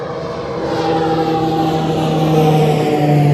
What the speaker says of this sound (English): It sounds like there's another plane coming in behind me.